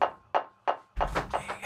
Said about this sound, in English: ASMR with the wine bottle slam on the table.